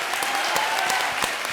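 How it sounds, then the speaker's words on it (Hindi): Loud studio audience applause on a Hindi TV comedy show, a dense, vigorous burst of many hands clapping close and full for a brief stretch. "जोरदार तालियां।"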